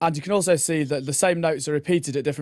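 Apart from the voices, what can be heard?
No everyday noise stands out behind the speech.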